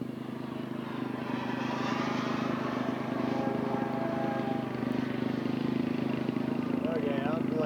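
A scale model aircraft comes in to land at a model airshow, its engine a steady, loud drone with a strong low tone that holds throughout, while people talk over it.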